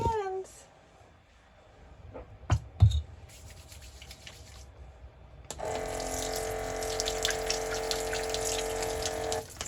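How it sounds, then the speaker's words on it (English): Bathroom tap running for hand washing in a tiny home or mobile home, a steady close splash of water pouring into a sink that starts after a few brief knocks and then continues loud and constant. "you can see I have running water in the bathroom"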